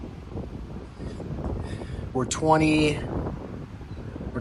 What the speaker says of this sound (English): probably a little bit windy where I'm at.